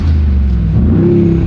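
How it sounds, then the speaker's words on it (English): A car engine revs loudly up close, a deep throbbing rumble rising in pitch; distinct exhaust pops are hard to pick out. "Let me like rev it for you guys real quick"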